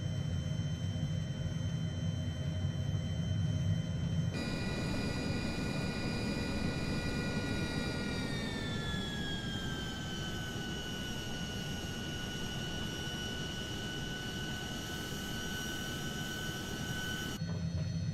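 Honda HJet HA-420 jet in Microsoft Flight Simulator 2020 gives a steady, loud jet engine whine with a tonal hum that slides lower partway through, then holds, without any speech.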